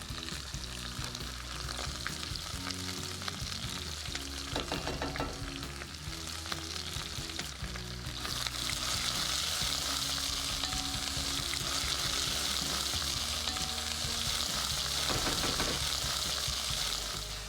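Onions and minced ginger fry in a pan with a dense, continuous sizzle and occasional stirring scrapes, growing louder and brighter about halfway through, close up with no talking.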